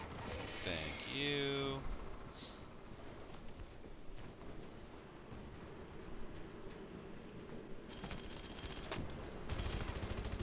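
Gunfire from the open-world shooter game Red Faction: Guerrilla, a steady rattle of shots that runs through the whole stretch, with louder bursts near the end and a brief spoken voice near the start.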